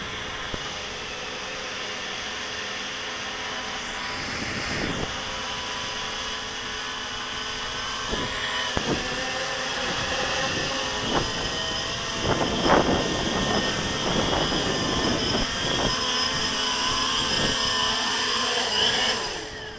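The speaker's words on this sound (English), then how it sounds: "return to land. It's going to climb 20 meters. Move over to the home point and start landing." A modified Walkera QR X350 Pro quadcopter drone hovers and climbs before returning to its home point to land, its rotors giving a steady, close high-pitched whine with brief swells and no talking.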